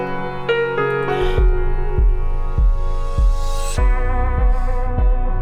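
A reverse crash cymbal swells upward in a few rising washes over sustained guitar feedback with a volume swell, set against a pulsing low beat in a mixed rock track.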